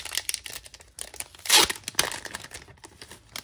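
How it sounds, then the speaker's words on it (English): A sealed K-pop photocard package is ripped open by hand, with crinkling plastic, a sharp tearing burst midway and scattered rustles, close and with no talking. "I'm just gonna rip this up."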